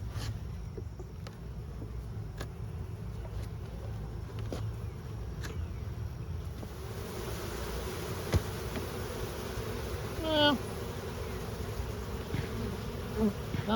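Honey bees in an open hive during a strong honey flow give a dense, continuous close buzz that holds steady throughout, with faint intermittent handling noises.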